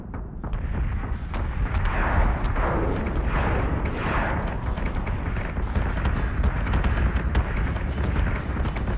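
Missile strikes in the space combat game Battlestar Galactica Deadlock rumble as a dense, continuous barrage of deep booming impacts and crackling blasts, loud and unbroken.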